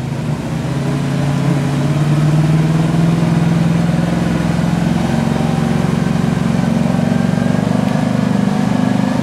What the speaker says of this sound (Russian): Нет, шашига завелась.